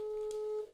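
One steady electronic ringback tone sounds for an outgoing phone call, held evenly for most of a second before it cuts off.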